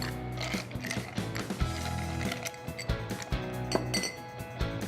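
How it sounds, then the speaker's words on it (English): Ice cubes clatter into a rum cocktail, a rapid run of sharp clinks and knocks against glass and metal, close and fairly loud, coming in uneven bursts with no talking. "I'll throw some ice cubes in here."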